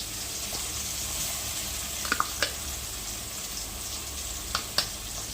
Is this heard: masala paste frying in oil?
yes